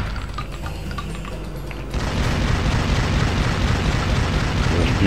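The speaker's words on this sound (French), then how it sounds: "Je tire sur les caisses, mais bon, c'est vraiment pour le fun." Gunfire at crates in Tomb Raider Legend, heavy booming blasts that swell into a dense, continuous roar after a couple of seconds, loud and close with no pauses.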